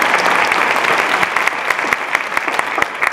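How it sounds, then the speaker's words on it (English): A school audience claps at the end of a talk during a high school drug presentation: full, energetic applause with crisp individual claps standing out, loud and continuous for about three seconds with no talk. "Go ahead and clap for Maggie."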